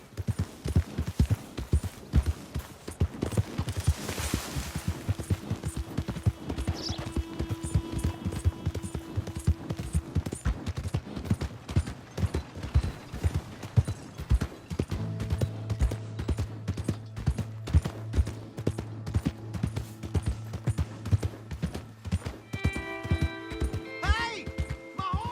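Fast, steady drumming of galloping horse hooves in Red Dead Redemption 2 runs throughout, with tonal game sounds and voices layered over it and a horse whinny near the start.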